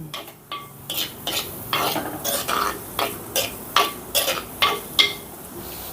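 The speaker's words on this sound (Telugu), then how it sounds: "ఈ ముక్కలన్నిటినీ గోల్డెన్ కలర్ వచ్చేంత వరకు ఫ్రై చేసుకుందాం" Onion, ginger and garlic frying in a pan until golden, with a steady low sizzle broken by repeated scraping stirs from a utensil at an even rhythm, close and moderately loud, with no talking.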